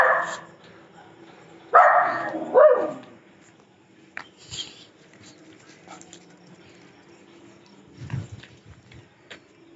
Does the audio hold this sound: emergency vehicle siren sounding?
no